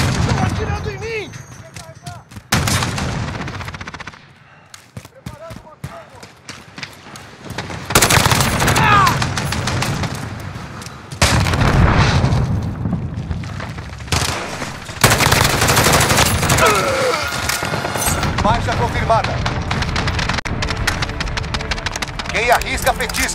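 Dense automatic and single gunshots from the video game Call of Duty Modern Warfare, loud and continuous bursts with heavy rapid firing and short lulls, a voice speaking over parts of the fighting.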